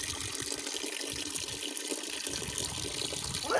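Water poured from a jug onto a potted plant, a continuous close splashing stream that runs steadily and ends with a brief louder gush.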